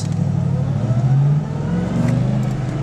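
A car's engine pulls away from idle, its tone rising as it revs up, then dipping briefly with a gear change before climbing again, close and steady with no talking.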